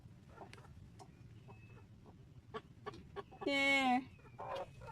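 A brooding hen sitting on eggs gives soft, scattered clucks and a louder squawk near the end, with a faint rooster call in the background and a brief spoken word.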